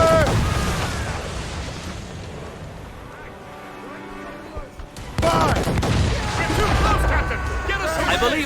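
Ship cannons booming in a naval battle in Assassin's Creed Rogue, heavy blasts and rumbling among game music, with crew voices shouting orders over the action.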